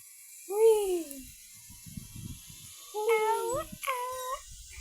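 Cartoonish cat meows in the Brookhaven video game: one drawn-out meow early, then two quicker meows near the end, clear and fairly close, with faint game noise between.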